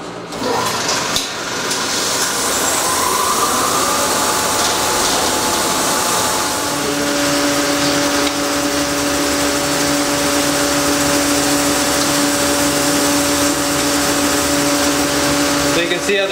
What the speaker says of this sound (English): The platter speeds up and shuts off.